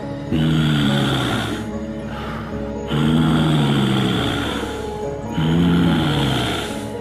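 Slow, heavy breathing with a rasping, snore-like rumble, swelling in three long cycles at steady intervals, close and fairly loud, with a faint whistling tone above, meant as an eerie presence outside a window at night in a horror tale.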